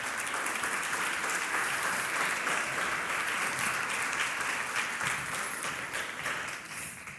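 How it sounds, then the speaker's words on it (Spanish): A church audience applauds in welcome of visiting pastors in Monterrey, a dense, steady wash of clapping lasting throughout and tapering slightly at the end. "ayúdame a darles un aplauso en esta tarde"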